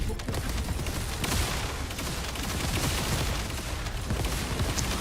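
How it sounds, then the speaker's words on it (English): Sniper fire and chain-reaction explosions from The First Descendant video game rattle in a dense, continuous barrage of booms and bursts, with a voice speaking over the gameplay. "it's like a chain reaction explosion"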